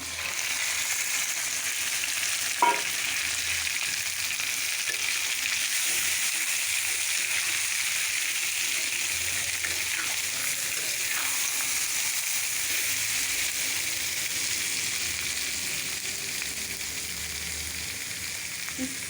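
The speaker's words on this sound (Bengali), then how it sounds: "এখন গরুর ভুঁড়িটা দিয়ে দিব" Steady, continuous sizzling of beef tripe added to fried onions in hot oil, close by, with an occasional stir or clink.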